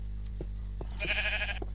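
A Minecraft sheep gives a few short bleats, then one longer, clearer bleat near the end of a quiet in-game scene.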